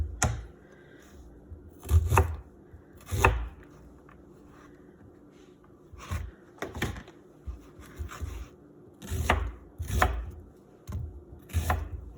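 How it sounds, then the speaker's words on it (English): A kitchen knife slicing across an onion on a cutting board, thin strips following the onion's natural lines, heard as a series of sharp, close chopping taps in irregular bursts with quiet gaps between. "we are going to slice across this way, following the natural lines that are on the onion"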